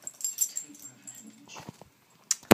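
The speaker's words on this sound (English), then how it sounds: "Dogs are trying to kill each other." Dogs scuffle and whimper indoors in short, uneven bursts of yelps and whines with quiet gaps between them, ending in a couple of sharp, loud outbursts.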